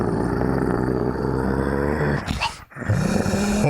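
A man imitates a growling dog with his voice, giving a loud, close, rumbling snarl that breaks off briefly and then resumes.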